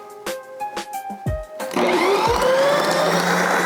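A Ninja Creami churns a protein ice cream mix-in, starting with a few short clunks and motor bursts, then settling into a loud, steady whirring grind that keeps going to the end.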